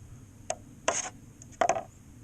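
Thick drywall joint compound is stirred in a quiet space, heard as three short, soft wet scraping strokes spaced apart against near silence.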